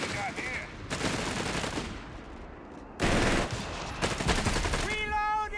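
Mortar fire and other weapons boom and crackle in the Company of Heroes 3 video game, with dense bursts and one heavy impact midway, then a rising whistle-like tone near the end.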